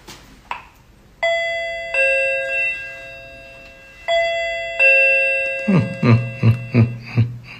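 A doorbell chimes several times with clear, ringing electronic tones, followed by a quick series of rhythmic knocks or taps.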